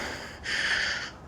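Heavy breathing from a climber during the fourth ascent on tiring legs, a single loud, close breathy gasp swelling for under a second with no talk.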